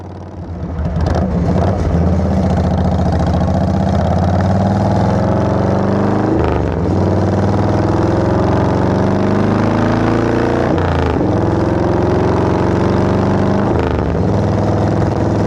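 A chopper motorcycle engine rumbles with a deep, steady exhaust note, rising and falling as it revs, loud and close throughout.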